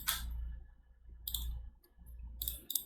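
Computer keyboard typing a search into a documentation page: three short bursts of crisp key clicks with pauses between them, fairly quiet and close, with no voice.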